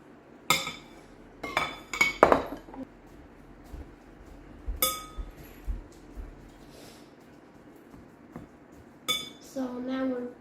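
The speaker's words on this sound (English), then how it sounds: "so now I'm mashing it, because I never did mash the bananas" Bananas being mashed and stirred in a bowl for banana bread, heard as a series of scattered clinks and scrapes of a utensil against the bowl, fairly close and moderately loud, with gaps of quiet between them.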